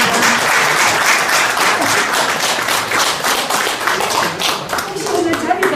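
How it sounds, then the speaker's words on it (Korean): An audience at an eco-friendly seminar applauds a presenter, a loud, dense wash of clapping that runs throughout and thins slightly toward the end, with some voices mixed in. "그럼 박수 한번 부탁드리겠습니다."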